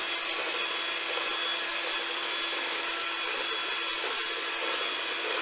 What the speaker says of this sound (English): The Smeg mixer is much less louder.